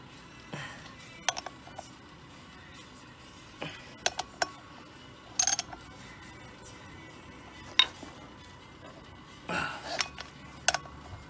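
Clutch pressure plate bolts being tightened on a Honda B18B1 engine, sparse metallic clinks and ratcheting clicks at irregular intervals over a quiet background, close by with no talking.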